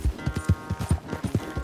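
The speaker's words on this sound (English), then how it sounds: "And we're just gonna ride the owner's best horse." Steady rhythmic clip-clop of a horse's hooves as a rider gallops the ranch owner's prized horse in Red Dead Redemption 2, close and even-paced, about eight hoofbeats in under two seconds.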